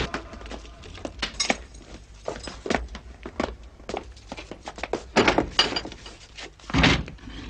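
A door is opened amid a run of wooden thunks and clunks, shuffling footsteps and a couple of heavier knocks toward the end, moderately loud and close, with no voices.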